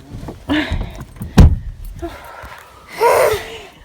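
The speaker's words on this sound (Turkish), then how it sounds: "Kapanmadı mı? Bunu, arabanın kapısı." A car door slams shut with one sharp, loud, close thud, set between short bursts of people talking and reacting.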